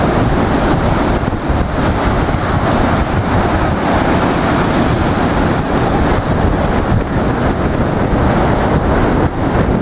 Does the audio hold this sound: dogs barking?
no